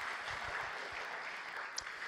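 An audience at the 2019 EFL season launch event claps steadily for a speaker, a dense, even wash of applause that holds at the same level throughout.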